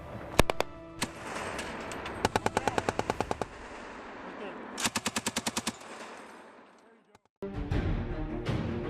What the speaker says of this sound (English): PK machine gun.